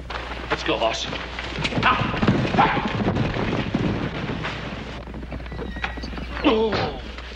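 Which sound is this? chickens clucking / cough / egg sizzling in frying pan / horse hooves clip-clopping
horse hooves clip-clopping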